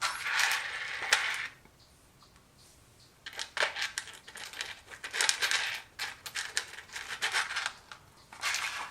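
Small metal knurled nuts handled and threaded onto the mounting bolts of a Denon DL-103R moving coil cartridge: close, crisp clicks and scraping rattles in bursts, with a quiet pause early on, no talking.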